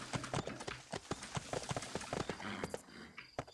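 Horse hooves clip-clop in the Bibi & Tina video game, a quick irregular run of distinct hoofbeats, fairly close and loud, with a brief clatter near the end.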